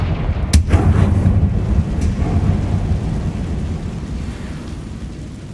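A Confringo blasting spell explodes in the video game Hogwarts Legacy: one sharp loud blast, followed by a heavy rumbling roar that slowly fades.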